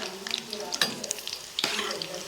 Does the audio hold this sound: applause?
no